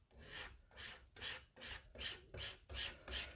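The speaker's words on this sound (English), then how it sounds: "making sure that it has gotten through all those little tiny holes. Okay, so you kind of scrape over it like a spatula." A squeegee scrapes paint through a silkscreen stencil in about eight quiet, rasping strokes, each a short rough swipe close up, with no talking.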